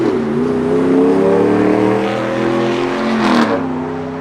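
A 1966 Pontiac GTO engine revs loud and close, a steady throaty idle swelling into a sharper rev near the end before settling back to a rumbling idle.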